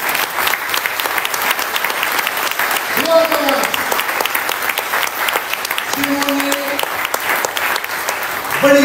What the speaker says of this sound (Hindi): आप दिल से तालियां बजाएं ताकि मैसेज आए